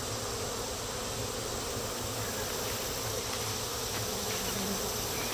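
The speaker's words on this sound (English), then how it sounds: "we got quite a few bees" A dense, steady hum of many bees buzzing close by, continuous and even without pauses or speech.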